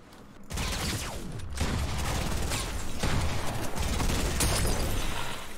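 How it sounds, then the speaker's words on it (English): Rapid bursts of enemy gunfire in Fortnite crackle continuously at moderate loudness for several seconds, with dense overlapping shots and no talk. "Oh, they're shooting at me."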